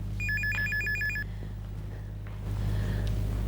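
A telephone rings unanswered in a home, a few bursts of a bright electronic trill, then stops, leaving a low indoor hum.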